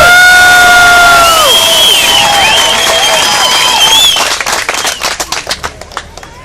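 A car show crowd in Richmond, BC, in 2013 erupts in loud cheers, whoops and high shouts, which give way to rhythmic clapping and applause that fades toward the end.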